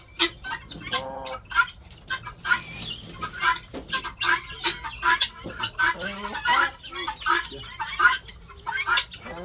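Geese and other fowl cluck and honk busily at feeding time, many close repeated calls overlapping in an irregular chorus.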